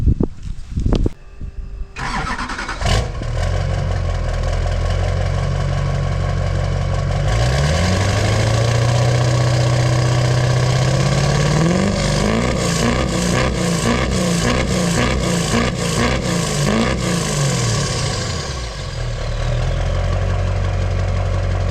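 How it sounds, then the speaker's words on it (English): A 2002-era LB7 Duramax diesel pickup with a new 4-inch exhaust cranks over and fires up loudly, then settles into a deep, steady idle with a throaty rumble and rhythmic pulsing close by. "start the old girl up in here,"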